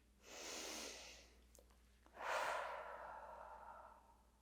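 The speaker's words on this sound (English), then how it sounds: "Take a deep breath in and out." A deep breath drawn in and let out during a yoga session, a soft close inhale followed after a short pause by a longer, fuller exhale, quiet and alone with no talking.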